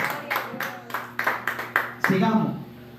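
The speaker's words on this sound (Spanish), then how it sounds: "Pero una alabanza de aplauso al Señor, amada iglesia de Jesucristo." Church congregation applauding in praise, a series of sharp bursts of clapping at a steady rhythm that then swells into a fuller round mixed with voices.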